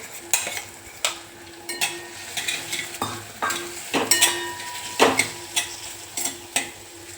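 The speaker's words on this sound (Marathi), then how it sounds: "आता हे वाटणसुद्धा आपण तेलावरती एक मिनिटभर छान असं परतवून घेऊया" Ground masala paste and tomato sautéing in hot oil for a no-onion, no-garlic ridge gourd dish, with a spoon scraping and stirring the pan in repeated close strokes over a soft, steady sizzle.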